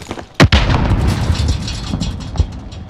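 A stun grenade going off in the shooter Warzone on Rebirth Island: a sharp, loud boom near the start, then a dense rumbling wash of game noise with another smaller thud near the end.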